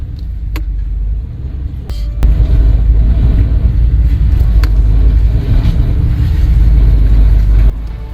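A damaged 2005 Mercedes SL 500 engine runs with a heavy, rough low rumble, loud and steady, broken by a few sharp clicks before it cuts back down near the end.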